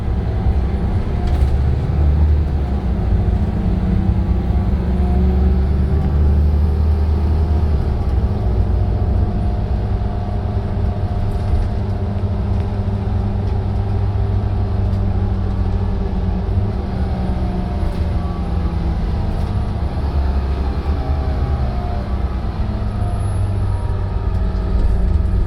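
A Volvo B7RLE bus with a Custom Coaches CB80 body drives along on a cool grey morning, its steady low engine rumble and road noise continuous and fairly loud throughout, with no voices.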